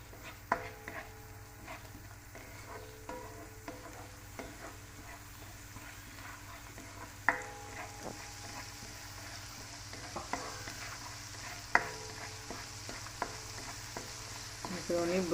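Chicken pieces fry and get stirred in a pan, a soft continuous sizzle broken by repeated sharp scrapes and taps of a utensil, close and fairly quiet, with no talking.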